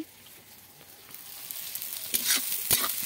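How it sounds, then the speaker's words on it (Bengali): Vegetables for chow mein fry in a pan with a soft, steady sizzle that grows louder, broken by bright crackling bursts as they are stirred. "সবজিটা একটু ভেজে নিচ্ছি।"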